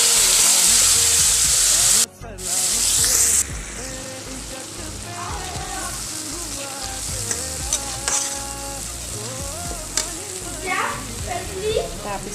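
Ground onion, garlic and chili paste frying in oil for a dry fish curry, a loud hiss that quickly settles into softer crackling with spoon scrapes while a person talks over it.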